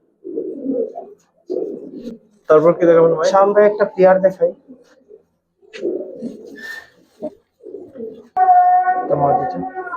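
Giribaz and Palla line pigeons coo in short bursts from close by, with people talking over and between the calls.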